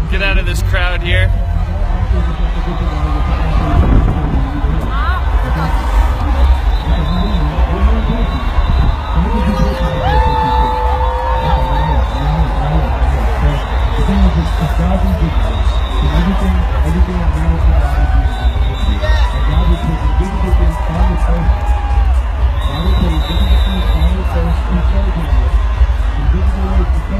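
A dense Pride Toronto street crowd roars and chatters all around, loud and continuous, with scattered whoops and cheers rising over the babble and nearby voices talking through it.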